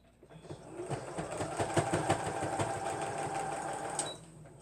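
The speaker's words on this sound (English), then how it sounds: "Let me put a couple of stitches in that." A sewing machine runs steadily for about three seconds, stitching through fabric pads, with a dense, even mechanical whir that starts up, holds and then stops.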